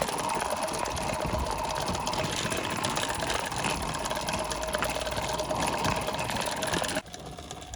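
A vintage alcohol-fired live steam model locomotive runs light on one wick, giving a steady, fast mechanical whirring and chuffing rattle heard up close, continuous until it drops away sharply near the end.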